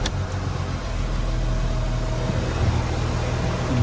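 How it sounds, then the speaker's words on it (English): A Porsche Cayenne, VW Touareg or Audi Q7 engine idling during a brake fluid bleed service, a low steady hum with a slight rise in level as it settles in, no talking. "Start the engine."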